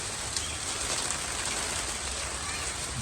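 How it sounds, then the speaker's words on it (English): Rain patters steadily on a Palram Canopia Hybrid greenhouse, a dense, close hiss of drops on the panels that stays even throughout, with a faint voice partly beneath it. "Back raining again."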